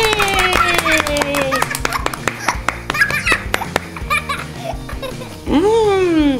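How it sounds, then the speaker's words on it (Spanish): Hands clap in a quick, steady rhythm for a reborn baby doll named Gael during toy feeding play, close and sharp, while excited voices talk and laugh over the clapping. "¡Un aplauso para Gael, todos juntos!"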